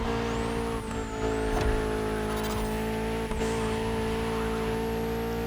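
A Porsche 919 street hypercar drives in the racing game The Crew Motorfest, its engine droning loud and steady with a constant harmonic whine and brief tire squeal or shift dips along the way.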